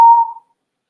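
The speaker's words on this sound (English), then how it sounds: "I just whistled, sorry." A single short whistled note in a quiet prenatal yoga class, loud and pure, fading out within half a second.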